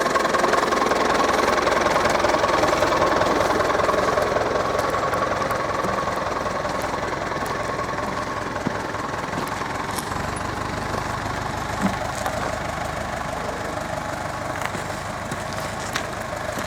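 A small tractor's engine idles steadily nearby, a continuous low rumble with faint knocking that runs unbroken and evenly loud throughout.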